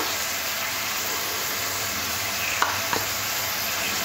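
Ginger-garlic paste sizzles and fries with onions and spices for a potol (pointed gourd) masala curry, a steady close hiss with a couple of faint stirring scrapes near the end.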